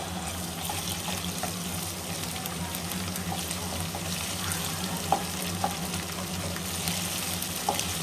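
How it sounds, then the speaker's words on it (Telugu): A kitchen chimney range hood drones steadily over a pan frying curry leaves and ginger, with a constant low hum and a faint sizzle throughout and a few soft clinks near the end. "ఇక్కడ చిమ్నీ ఆన్ అయింది"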